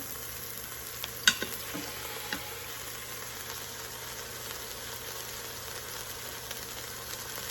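Tri-tip beef browning in an Instant Pot gives a steady, low sizzle throughout, with a couple of faint utensil knocks near the start and no talking.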